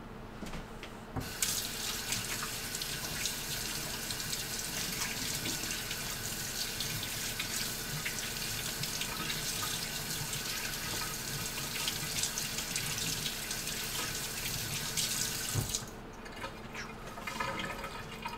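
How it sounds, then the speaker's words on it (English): Both hands are washed under a steady stream from a kitchen tap while making hamburgers and fries, the water running loud and continuous for about fifteen seconds before it is shut off, with no voices. "I have to wash one hand, one hand, so I'm going to wash both hands"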